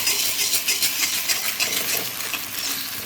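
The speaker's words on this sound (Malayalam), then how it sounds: "മുട്ട ഒഴിച്ച് ഇളക്കി കൊടുക്കണം." Egg being stirred in a hot pan for Kerala egg thoran, with a close scraping and sizzling sound, steady and rhythmic, with no talking.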